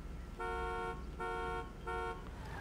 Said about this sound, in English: Okay, third honk, you ready?